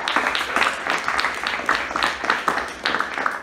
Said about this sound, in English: Clap and praise the Lord.